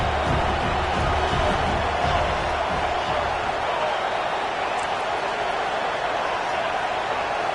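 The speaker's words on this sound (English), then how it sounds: "Crowd coming to life here, trying to help the defense get a stop." Football stadium crowd at an Auburn game roaring to support the defense before a third-down play, a sustained broad wall of cheering and noise at steady loudness, with a commentator's voice faintly underneath at first.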